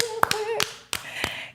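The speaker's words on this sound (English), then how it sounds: "Can we clap it up real quick?" A few sparse, sharp hand claps from a small group welcoming a guest at an interview, ringing out over a voice.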